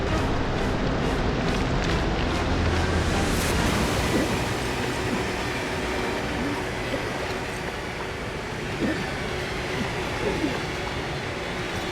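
Rushing water in the video game Metro: Last Light, a loud, dense, continuous roar like a strong current, steady throughout with faint rumbling underneath.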